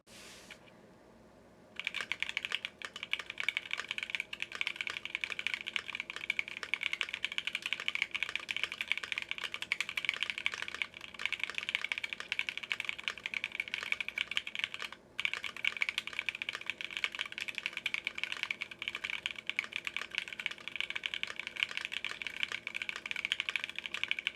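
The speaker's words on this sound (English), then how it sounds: "Let's do another typing test here." Steady, continuous typing on a mechanical keyboard with Hades switches (63.5g, three-stage springs), a dense run of close clicks and clacks with a brief pause, no talking.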